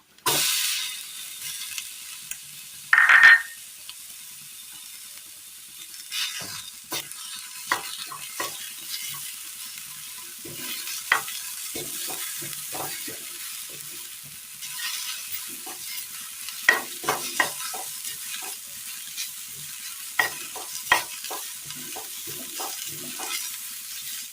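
Onion, carrot and long-sliced tomato fry in a pan with a soft continuous sizzle and repeated stirring scrapes, one sharper clatter near the start, no voices.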